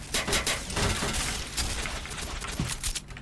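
Rapid bursts of gunfire crackle in quick succession, loud and dense, with sharp cracks scattered across a noisy game-like soundscape, from the online shooter Point Blank.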